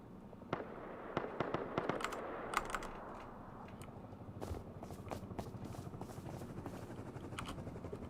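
A minicopter flying past in a video game, its rotor chopping as a steady low pulse, overlaid with rapid keyboard clicks and distant popping gunshots.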